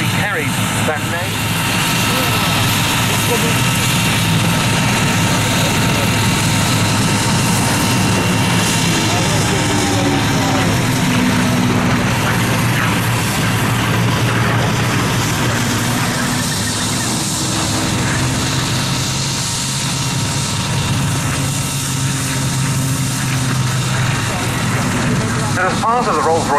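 A Rolls-Royce heritage flight aeroplane flies past at the RAF Cosford air show, its engine roaring loud and continuous with slowly shifting pitch beneath an announcer's voice.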